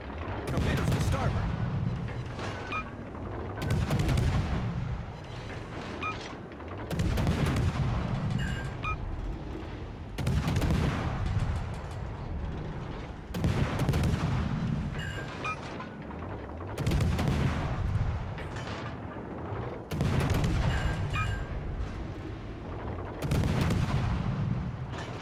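Warship guns boom in a naval battle video game featuring a Sumner-class destroyer, heavy salvos landing in a regular rhythm roughly every three seconds, each a loud rumbling blast with a decaying tail and faint effects between.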